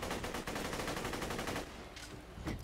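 Rapid automatic gunfire in Borderlands 2, a dense unbroken burst of loud shots for about a second and a half, then tapering into a few scattered, quieter shots and impacts.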